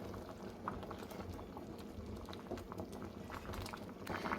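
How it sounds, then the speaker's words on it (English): A pot of potatoes boils on the stove, soft bubbling and popping that continues evenly and quietly, close by and without speech. "I'm going to let this come to a boil"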